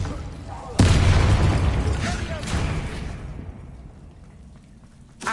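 The Incendio fire spell goes off in Hogwarts Legacy, a sudden loud whooshing burst of flame that roars and then fades over a few seconds, followed by a second smaller flare and a sharp pop at the end.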